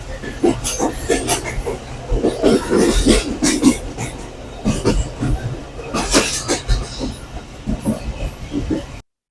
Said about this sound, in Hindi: ये शाह लतीफ़ एक्सप्रेस जिस पे बैठ के हम लोग सिटी स्टेशन से धाबे जी स्टेशन तक आए थे।